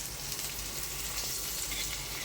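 Stuffed green chillies sizzle gently in a pan while being flipped one by one, a faint steady hiss throughout with a small clink partway, no clear speech.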